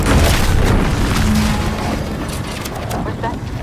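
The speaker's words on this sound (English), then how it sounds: "What's that? An explosion?" An explosion in The Outer Worlds 2 video game: a deep, rumbling boom filling the clip, loud and sustained, then slowly settling into a lower roar.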